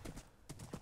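Horse hooves clip-clopping in the Minecraft video game, a few quick soft steps in short bursts, fairly faint, with no talk over them.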